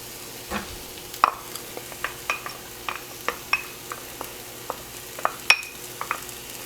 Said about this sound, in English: I'm gonna put in 1 tablespoon of olive oil. And then we're gonna throw in